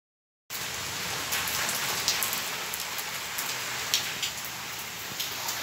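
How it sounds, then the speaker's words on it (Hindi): Rain begins after a moment of silence and falls steadily, a dense hiss with scattered sharper drops tapping on a surface close by. No voices are heard. "नीचे देख लो तो स्टार्ट हो चुकी है बारिश"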